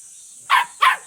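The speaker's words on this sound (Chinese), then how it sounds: "这条狗子听到我的声音好激动啊， 一直叫个不停。" A dog at a grandfather's rural home barking excitedly: two quick, sharp barks in rapid succession, close and loud, over a faint high background hum.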